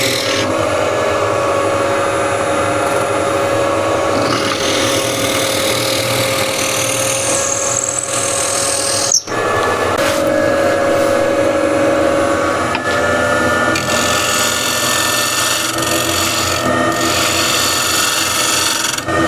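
A hand tool working wood on a cross-grain box project, giving a steady, close scraping and rasping texture that runs almost the whole time with one brief break; it sounds more like filing or rubbing than a power drill.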